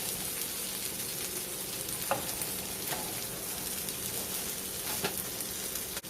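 A spinach artichoke grilled cheese sandwich fries in a pan with a constant close sizzle and crackle, steady throughout with a couple of brief sharper pops.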